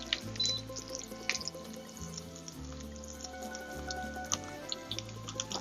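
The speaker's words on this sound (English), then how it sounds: "we fry the aubergine. Nice sizzling oil." Aubergine frying in hot sizzling oil for a Sicilian caponata, a steady close crackle with scattered sharp pops and spits, heard alone without talk.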